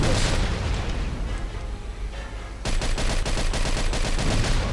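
Machine gun fire in the crime game Mafia 2, dense and loud throughout, with a sudden surge of rapid, rattling automatic bursts about halfway through and continuous booming clatter after it.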